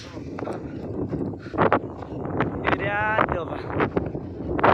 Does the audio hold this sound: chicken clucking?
no